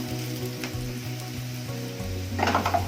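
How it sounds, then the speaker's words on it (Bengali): Garlic goes into frying onions in a pan, bringing a steady close sizzle with light stirring that swells into a louder, crackling burst near the end. "এবার রসুনটা দিয়ে দেবো,"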